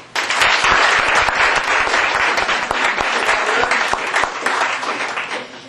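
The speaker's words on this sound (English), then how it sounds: "Would you please give a round of applause, please, for Terry Chandler." Sustained audience applause at a cooking event, many hands clapping loudly and densely for several seconds right after a speaker's introduction, fading slightly near the end.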